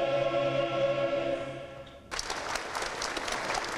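Opening of the university year at Bucharest's Politehnica: a sustained sung or played Gaudeamus anthem ends abruptly, and a hall of people breaks into broad, steady applause for the final stretch.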